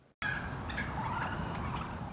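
Loud, dense gobbling from a flock of turkeys on an English farm that has raised them for over 70 years, a continuous chorus close by with overlapping calls.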